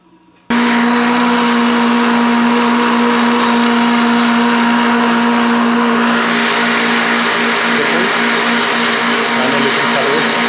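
A blender starts abruptly and runs continuously at high speed blending fermented bread dough sponge with sugar, a loud whirring motor hum with a shifting pitch as the contents churn.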